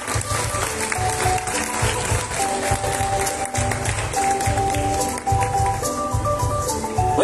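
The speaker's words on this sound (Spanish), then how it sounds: "¿Qué les parece si les brindamos otro fuerte aplauso," A crowd at a fair queen coronation in Concepción claps steadily, dense continuous applause filling the hall, loud and sustained throughout with faint speech underneath.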